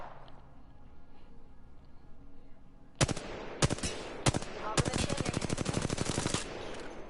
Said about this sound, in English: let's try some auto fire now